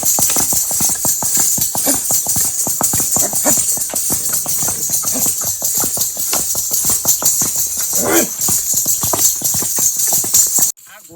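A village mare stepping and dancing: rapid, rhythmic hoof clip-clops close up and loud, with a faint rattle, continuing steadily for about ten seconds before stopping abruptly.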